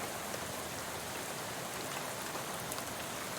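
Rain spattering on a bus window in the video game Shadows Over Loathing, a steady, dense patter of drops with a soft hiss, even and unbroken, fairly quiet with no voices.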